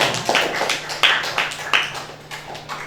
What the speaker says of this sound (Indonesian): kita kasih aplaus buat kelompok 5